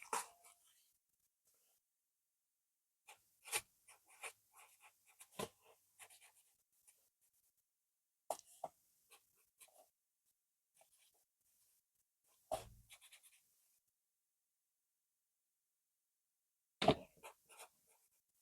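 A pen writes a message inside a handmade card made from packaging, producing short bursts of close scratchy strokes separated by long silent gaps.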